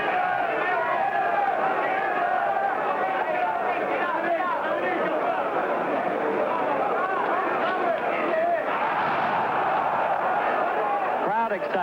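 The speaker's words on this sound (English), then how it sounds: "Crowd excitement, but nothing really." A boxing crowd at a heavyweight fight between Oscar Bonavena and Karl Mildenberger keeps up a loud, continuous roar of cheering and chatter for the whole stretch, with swells of excitement and no clear break.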